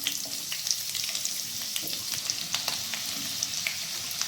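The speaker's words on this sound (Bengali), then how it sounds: "হাই আঁচে রেখে পেঁয়াজটাকে ভেজে নিচ্ছি।" Sliced onions fry over high heat in hot oil in a wok, giving a steady, dense sizzle with occasional crackles and light stirring clicks, close and continuous without speech.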